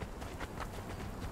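Horse hooves clop in a quick, even rhythm in the video game Conan Exiles, with soft repeated thuds heard faintly under a steady noisy background.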